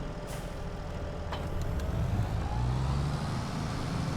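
A T8 tractor in Farming Simulator 22 labours uphill in Tuscan hill country, its engine a steady low drone under a faint whine, rising slightly in pitch and loudness midway as it strains on the climb.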